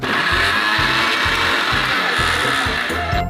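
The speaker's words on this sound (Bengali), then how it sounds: "এই ব্লেন্ডারটা অনেক পাওয়ারফুল।" A powerful blender whirs through radish for juice, its motor loud and close, surging and dropping in a regular pulsing rhythm.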